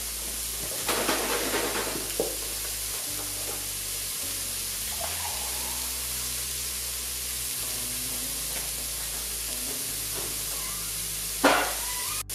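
Cumin sizzles as it cooks in an Instant Pot, a steady crackling hiss that holds evenly throughout, with a few soft clinks of stirring.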